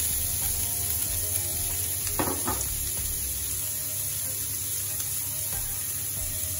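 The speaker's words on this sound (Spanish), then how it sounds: "Seguidamente le echamos la cebolla y el pimiento verde." Onion and green pepper frying in oil left over from browned chicken in a frying pan, a steady soft sizzle running throughout with a brief louder crackle near the middle.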